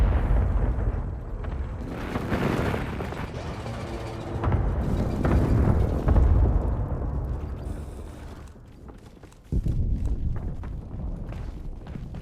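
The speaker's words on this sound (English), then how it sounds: "Enemy precision airstrike." Precision airstrike explosions in the video game Warzone are a series of heavy, rumbling booms that roll continuously for several seconds, loud and deep. A fresh blast lands after a short lull, with no talking.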